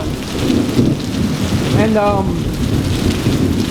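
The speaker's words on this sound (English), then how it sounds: "It's really raining." Heavy rain pours down outdoors in a dense, steady, loud roar, and a distant rumble rolls through partway. A voice speaks briefly under the downpour.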